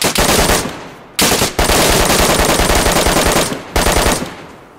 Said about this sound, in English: No, that was me shooting.